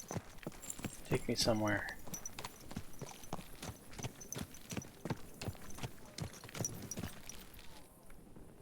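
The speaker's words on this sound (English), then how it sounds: "I'm on a horse in a street." Horse hooves clip-clop along a street in the video game Kingdom Come: Deliverance II, a steady rhythmic stream of close, crisp hoofbeats that runs the whole length, with a brief spoken line near the start.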